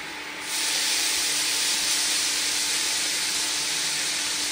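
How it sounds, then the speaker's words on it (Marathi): Tomato puree hitting roasted masala in a hot pan bursts into a loud, steady sizzling hiss that starts suddenly and holds evenly throughout, with no one speaking. "मी आता यात आता टोमॅटो प्युरी टाकते."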